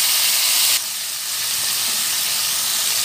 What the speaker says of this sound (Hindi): चलिए अब इसमें टमाटे कटे हुए डालेंगे